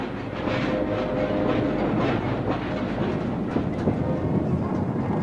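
A freight train of coal hopper cars rolls along the rails with a loud, continuous rumble and a rhythmic metallic clatter of wheels, with no voices.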